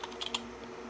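Short burst of computer keyboard typing, a few quick keystrokes clustered near the start, fairly quiet and close, with no talking.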